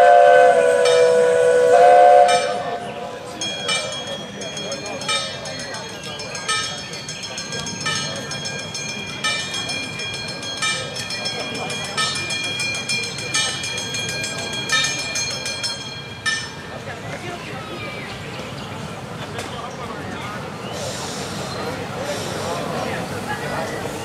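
A steam whistle shrieks at the start, then a steam train hisses and rumbles steadily at Auensee station in Leipzig with clanking and venting steam, while people talk nearby and an announcement is made.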